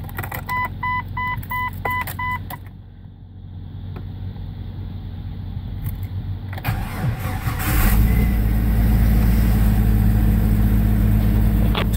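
Starting attempts on 1994 and 1999 Jeep XJ engines, a short run of electronic chimes and clicks, then a cranking buildup that catches into a loud, steady idle rumble that continues to the end.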